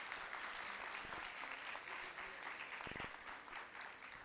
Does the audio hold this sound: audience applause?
yes